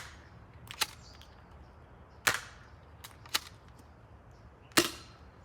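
A modified Nerf Talon shotgun fires foam darts at a wall about 40 feet away. Four separate sharp pops with short gaps between them sound over a quiet room, and there is no speech.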